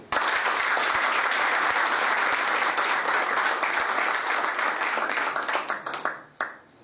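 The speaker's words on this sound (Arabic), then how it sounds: "تصفيق أول" A theatre audience claps steadily and loudly at a regional theatre ceremony in Constantine, the dense applause holding for several seconds before thinning into a few scattered claps at the end.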